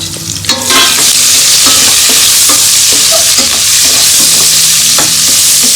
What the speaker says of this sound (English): it's like roasting it a little bit, the garlic